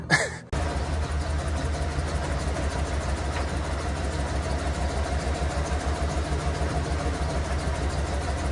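A 1988 Ford F150 pickup sits on jack stands with its engine running in gear, a steady, close rumbling idle with an even pulsing rhythm that continues unbroken after a brief knock at the start.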